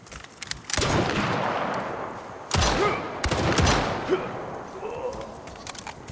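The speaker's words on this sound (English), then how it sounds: "It's time to bring out the rifle" Rifle fire from the video game Lost Rift comes as sharp, loud cracks in several separated bursts. Some shots ring out with short echoing tails.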